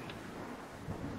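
Thunder rolling through a rainy night in a horror video game, a faint low rumble with rain hiss and a brief swell near the end.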